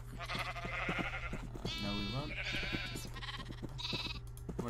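Minecraft sheep on a sheep farm bleat several times in wavering, nasal cries, close and fairly loud over a steady low game hum.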